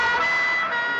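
A fire engine siren wails continuously at steady loudness, a sustained tonal howl with no other sounds over it.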